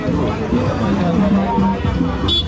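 Busy crowd babble fills the space, many overlapping voices close by, with one person talking over the steady hubbub.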